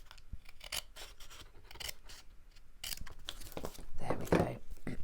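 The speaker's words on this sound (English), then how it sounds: "just trimming that down a little bit, just a few millimetres off of each edge." Card edges of a handmade aperture box card being trimmed, giving close, crisp snips and a rough scraping cut that grows louder toward the end, with some indistinct talk at points.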